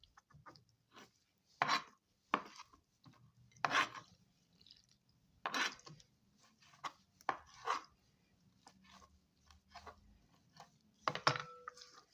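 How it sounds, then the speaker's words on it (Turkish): A knife chops through anchovies on a board in irregular, close taps and thuds, with short pauses between cuts and faint rustling in between. "Hafif irili bir şekilde balıklarımızı doğrayalım bu şekilde."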